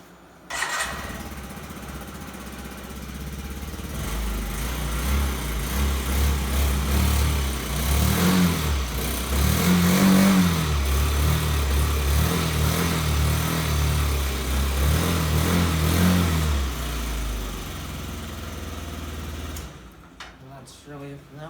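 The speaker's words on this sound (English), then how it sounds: "a sound comparison, I guess, against the stock exhaust versus a aftermarket exhaust" A scooter engine idles and revs repeatedly, rising and falling in loud bursts close by, then cuts off near the end.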